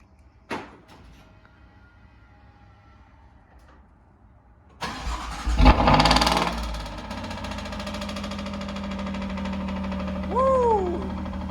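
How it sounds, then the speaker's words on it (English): After a quiet stretch with a faint click, an Alfa Romeo Giulia Quadrifoglio's engine cranks on remote start and roars to life, revving loudly before settling into a steady idle. "this is take 1 of remote starting the car."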